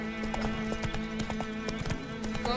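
Horse hooves clip-clop in a steady rhythm under a constant tonal hum, a mount trotting along in The Witcher 3: Wild Hunt game, with occasional faint snorts.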